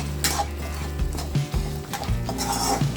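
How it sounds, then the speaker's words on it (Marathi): Semolina for upma stirred continuously in a pan with salt, a steady close scraping of spoon against metal with light clinks and a faint sizzle underneath. "आता यात रवा मिक्स करायचा आहे आणि तो सतत हलवत राहायचा आहे"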